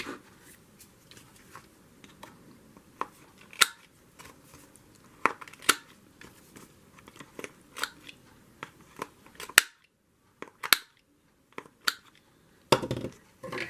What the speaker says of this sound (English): I was thinking about rounding the corners on this.